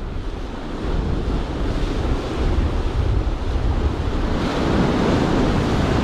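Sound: ocean waves breaking on the shore

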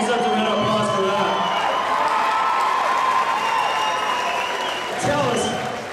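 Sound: audience applause for a fighter at an MMA event

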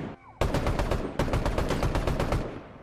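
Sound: lock-on pistol gunfire in Fortnite video game

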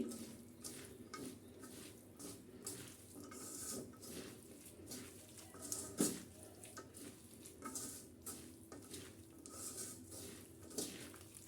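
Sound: mixing bitter gourd and potatoes with spices by hand

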